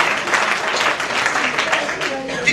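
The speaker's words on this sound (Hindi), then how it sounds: "जोरदार तालियां बजाओ" An audience at a Hindi comic poetry gathering breaks into loud, energetic clapping, a thick continuous roar of hands with some surging, up close and filling the space.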